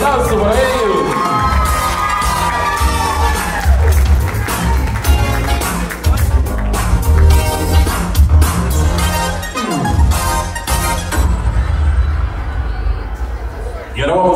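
Party guests at a quinceañera cheer and shout loudly as a couple makes their entrance, a dense lively crowd roar with whoops and children's voices over pounding music, sustained throughout.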